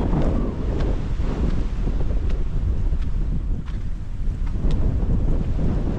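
Strong desert wind in Kenya buffets the microphone with a continuous, loud, roaring rumble that gusts slightly, alone with no talking.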